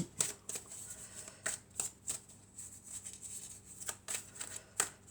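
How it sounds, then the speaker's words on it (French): Oracle cards being shuffled by hand for a Monday general and love guidance reading: repeated crisp riffling bursts with soft flutters between them, close and fairly quiet, with no talking. "on va prendre quelques cartes de mon oracle"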